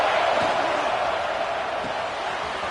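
Steady wash of stadium crowd noise from a college football video game, NCAA 26, a broad continuous roar at moderate level with no distinct cheers, holding evenly throughout.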